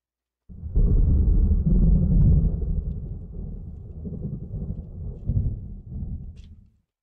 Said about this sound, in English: Storm is still there.